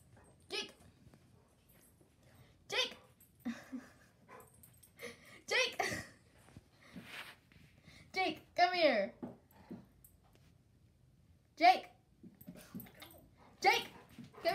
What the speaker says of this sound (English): come here, you crazy dog